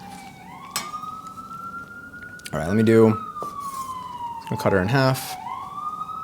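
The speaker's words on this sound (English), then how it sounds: "Sorry about the sirens." Emergency vehicle sirens wail outside, a steady rising and falling tone running through the whole stretch, while a person talks nearby over the top of it.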